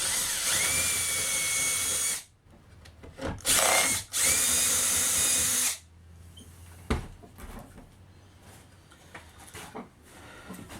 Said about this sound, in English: Switch to a Forstner bit to clean out the very bottom of those holes.